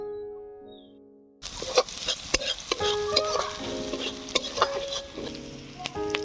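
Chopped onion and slit green chillies frying in a pan, starting after a moment of quiet with a close, steady sizzle and repeated spatula scrapes and taps against the metal, no voices.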